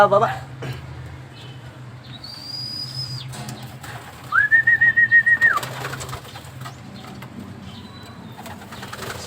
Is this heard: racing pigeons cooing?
yes